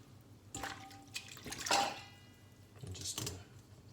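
Fresh coriander being dropped and moved around in a bowl of cold water, giving a few soft, quiet splashes and drips at close range with no talk.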